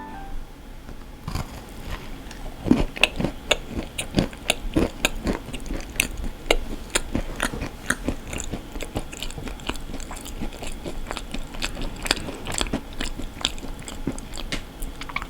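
Repeated bites and chewing of ang-butter bread, a pastry filled with red bean paste and butter, with crisp crunchy bursts at an irregular rhythm, close and fairly loud, no talking.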